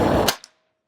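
A Hatsan 125QE .22 caliber air rifle fires a single sharp, loud shot that ends in a crisp crack and decays quickly into silence.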